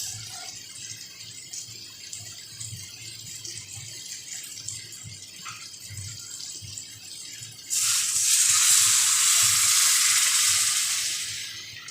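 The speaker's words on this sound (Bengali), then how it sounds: "এবার আমি এর মধ্যে পরিমাণ মতো জল দিই।" Water is poured into a pan of spice mix, a bright steady splash and hiss that starts abruptly after a quiet stretch of low kitchen rumble, then tapers off.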